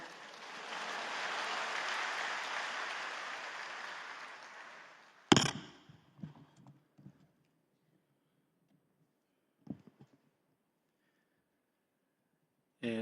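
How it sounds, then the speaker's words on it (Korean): Congregation applauding at an early-morning church service as the preacher comes up, a broad wash of clapping for about five seconds that stops abruptly, followed by scattered faint knocks and near silence. "우리 강사님 나오실 때 뜨거운 박수로 맞아주시기를 부탁드립니다"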